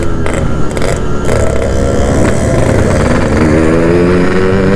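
A group of Yamaha RX King two-stroke motorcycles, about four bikes riding together, fills the air with a loud, continuous, buzzing engine roar. The revs rise and fall throughout.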